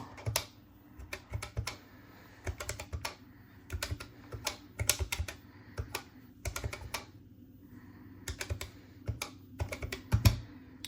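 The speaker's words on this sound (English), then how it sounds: "All right, let's get my calculator." Calculator keys are tapped in quick bursts, crisp plastic clicks close up with brief pauses between runs of presses and no voices.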